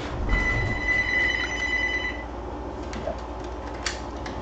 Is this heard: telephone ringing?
yes